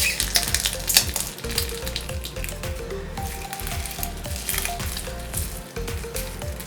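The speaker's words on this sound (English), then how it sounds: "I love the sound it makes and the texture that the slime has with the crushed eggshells mixed into it" Eggshell stuffed with blue slime being crushed and squeezed, a continuous wet crackling of small shell fragments mixed with squishy sticky squelches, close and fairly quiet, with no voices.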